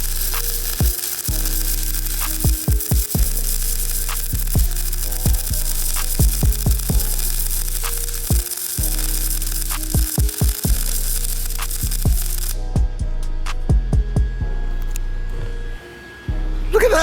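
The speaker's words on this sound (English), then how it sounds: "He's gonna show me really how to weld." Welding on car fenders produces a steady close crackling sizzle and hum, broken by irregular sharp clicks and pops over about seventeen seconds before the arc stops near the end.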